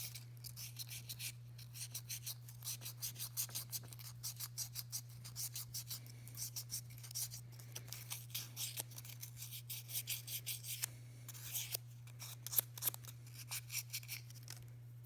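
Silver ring being worked with a hand file: rapid, continuous back-and-forth rasping strokes, fine and scratchy, steady in rhythm and fairly quiet, heard close up over a low constant hum.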